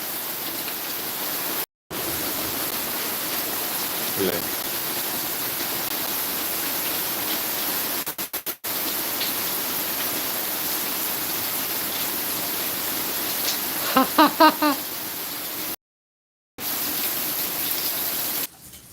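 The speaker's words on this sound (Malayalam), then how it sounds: "നല്ല മഴ പെയ്യുന്നുണ്ട് കേട്ടോ ഭയങ്കര മഴ പ്രകൃതിയായിട്ട് മഴ പെയ്യുന്നുണ്ട്" Heavy rain drums on a tiled roof as a constant, broad wash of noise, broken by a few brief dropouts into silence.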